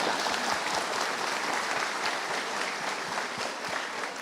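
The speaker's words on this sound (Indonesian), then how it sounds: "Biasanya orang tepuk tangan setelah saya bilang gitu." A seated audience at a motivational talk breaks into applause, a steady, even patter of many hands clapping that holds for several seconds at moderate distance without voices.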